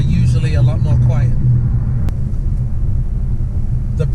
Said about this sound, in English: there's quite a bit of wind noise in this car